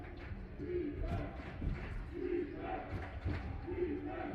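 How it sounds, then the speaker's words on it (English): A college basketball crowd at Redeemer cheers and shouts in a gym, a dense wash of voices and whoops rising in waves, with thumps mixed in. "The Redeemer crowd coming alive here"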